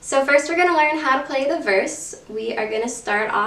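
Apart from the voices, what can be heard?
No everyday noises stand out.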